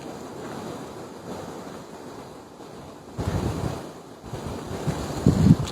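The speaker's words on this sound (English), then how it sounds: "It's very windy in this minute." Steady wind buffeting a microphone outdoors, with surf-like rushing that swells louder in gusts toward the end.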